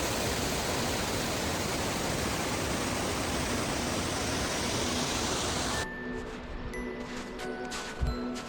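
A mountain waterfall cascades down beside a hiking trail, heard as a loud, steady broadband rush that runs without a break for several seconds, then thins abruptly to a quieter background with faint scattered sounds.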